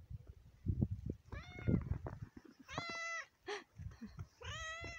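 A cat meows outdoors on a snowy winter day: three or four clear, drawn-out meows spaced a second or so apart, close by, over low rustling and handling noise.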